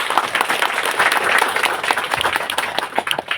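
An audience at a public meeting claps loudly and steadily, a dense patter of many hands going for several seconds with no speech over it.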